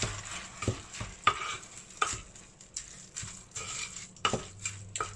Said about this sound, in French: on va ajouter donc les coquillettes. Voilà, qu'on va mélanger à la viande.